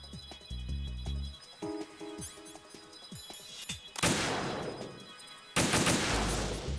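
Gunshots in Metal Gear Solid 2, a few sharp cracks over game music, followed by two loud, close bursts of noisy fire that ring out before cutting off.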